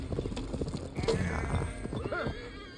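A horse gallops in Assassin's Creed Valhalla with rapid, steady hoofbeat clip-clop. Whinnies and game effects layer over it. The hoofbeats sound loud and close throughout the short ride.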